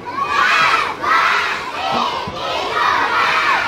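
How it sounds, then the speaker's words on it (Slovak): A large crowd of young voices shouting together loudly in rhythmic surges, rising and falling like a chant, with no other sounds standing out. "Musíme kričať najviac, ako to ide, dobre?"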